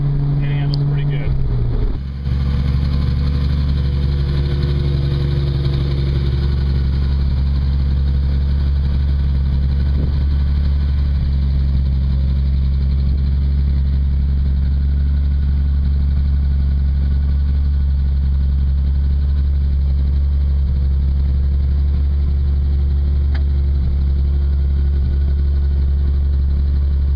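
A 1968 Triumph Spitfire's engine drones steadily while driving, a loud low hum with a constant rumble throughout, and someone talks over it most of the time.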